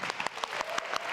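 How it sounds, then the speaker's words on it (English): Audience clapping in a talk-show or podcast setting, a short burst of dense, steady applause from a small crowd, fairly close, with no talking over it. "I don't know what you're applauding"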